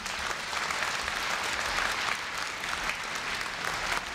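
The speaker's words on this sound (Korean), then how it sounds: "염재호 총장님을 뜨거운 박수로 맞이해 주시기 바랍니다." Audience at the Korea University 2015 freshman entrance ceremony applauds to welcome university president Yeom Jae-ho, a dense, steady wash of clapping from a large hall that holds at an even level throughout with no voices over it.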